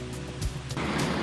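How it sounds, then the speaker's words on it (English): Small twin waterfalls just off a woodland hiking trail on the Bruce Trail, giving a steady, close rushing splash of falling water that swells louder partway through, with no talking. "little waterfall here, 2 of them"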